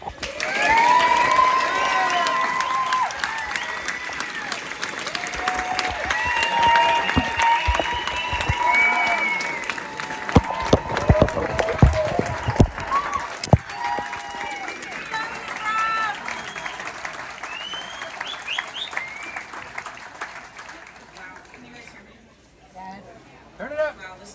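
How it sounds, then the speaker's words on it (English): An audience at a memorial event breaks into sustained applause and cheering, loud and dense at first, then thinning and fading toward the end, with voices shouting over it. "please give your support, give your love, a round of applause, Gabrielle."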